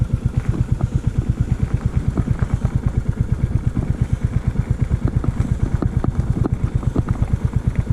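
Royal Enfield motorcycle engine idling at a Royal Enfield owners' meetup, a steady low thumping putter with even, rapid beats, close and continuous, with no one speaking.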